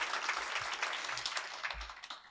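An audience claps together in sustained, fairly soft applause at a community leadership roundtable, the clapping steady and diffuse as if heard from across the room.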